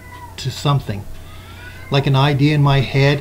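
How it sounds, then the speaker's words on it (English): A house cat meows loudly and clearly twice close to the microphone, the second call long and drawn out, while a person talks over and between the calls. "That's the cat, by the way."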